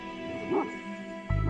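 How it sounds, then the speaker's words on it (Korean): A Bankhar, the Mongolian guard dog, gives a short warning bark at night, with a whimpering yelp early on and a louder, closer bark at the end. "수상한 움직임을 느끼면 큰 소리로 짖어 경계한다."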